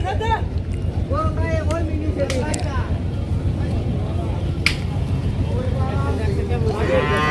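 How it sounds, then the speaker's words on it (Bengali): A Sahiwal cow at a riverside cattle market lows several times over busy market noise and people talking nearby, the moos loud and repeated across the scene. "এখানে একটি বিশাল গরু রয়েছে খুবই সুন্দর এটা কি জাতের গরু ভায়া"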